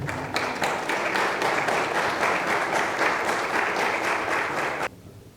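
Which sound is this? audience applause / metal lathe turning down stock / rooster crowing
audience applause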